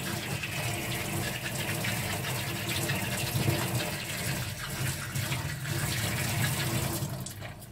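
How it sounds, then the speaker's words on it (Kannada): Tap water runs continuously into a kitchen sink during dishwashing, a steady close gushing stream with slight shifts in flow and no voices. "ನನ್ನ ಪಾತ್ರೆ ತೊಳೆದಾಗ ಎಲ್ಲ ಸಿಂಕ್ನ ತೊಳಿತೀನಿ"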